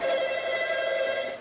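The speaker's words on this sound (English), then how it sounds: "Phone." Telephone bell ringing steadily indoors, a loud, continuous electronic trill that holds for over a second before easing off at the end, heard alone with no voices.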